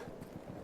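Cavalry horse hooves clop rhythmically in the Battlefield 1 multiplayer map Lupkow Pass, a quick, muffled galloping beat that is faint and low in the mix.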